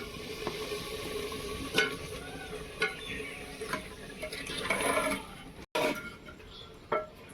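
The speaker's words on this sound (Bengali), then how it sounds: "এবারে দিয়ে দিচ্ছি ভেজে রাখা আলুগুলো" Fried potatoes are stirred into chicken cooking in a clay pot, with soft sizzling under repeated scraping and clinking of a spoon against the pot, fairly quiet and close.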